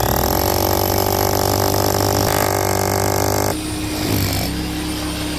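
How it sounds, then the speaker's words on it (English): A power tool grinds through a hammer drilling pass with a small pilot bit during a water well install, a loud, constant harsh drone that shifts pitch and tone partway through. "Okay, so we just finished hammer drilling."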